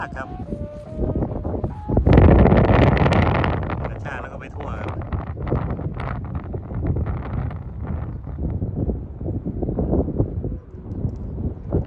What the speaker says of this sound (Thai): ลมกระชากลมดีมากครับ แต่กระชากหน่อยครับวันนี้ครับ